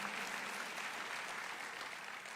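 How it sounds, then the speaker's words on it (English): An audience at a county State of the County address claps in sustained, dense applause, an even wash of many hands heard alone and fading slightly at the end. "Yes, that is a reason to applaud."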